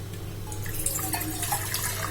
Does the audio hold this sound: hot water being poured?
yes